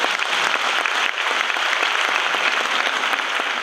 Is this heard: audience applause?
yes